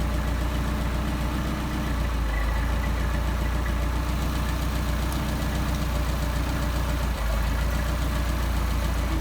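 An engine with a Solex 44PHH carburetor idles during mixture tuning, giving a loud, close, unbroken droning rumble with a slightly uneven beat throughout.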